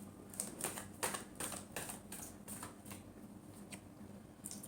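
Tarot cards being shuffled by hand: several quick riffling bursts, one after another, close and fairly soft, with no talking.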